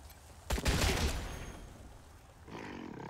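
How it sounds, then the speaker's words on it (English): A sharp burst of gunfire from the Wasteland 3 video game rings out with a rumbling, roaring tail that slowly fades. A softer second burst of sound follows near the end. "And then we shoot this one back there"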